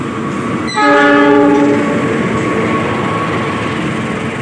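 A train passing straight through a station in Jakarta sounds a loud, steady multi-tone horn blast over a constant roar of rolling wheels, close and dominant.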